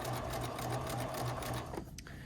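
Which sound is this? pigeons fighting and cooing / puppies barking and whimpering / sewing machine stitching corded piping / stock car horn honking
sewing machine stitching corded piping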